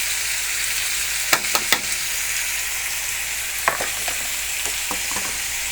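Mixed winter vegetables sizzle steadily in a frying pan, with a few sharp scrapes and clicks of stirring scattered over the constant hiss; no one speaks.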